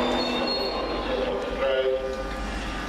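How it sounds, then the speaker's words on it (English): East Midlands unit 158847 rumbles through on the Liverpool Lime Street to Norwich service, a steady close roar of wheels with a faint squeal, while a voice talks over it. "1743 East Midlands train service from Liverpool Lime Street to Norwich, 158847"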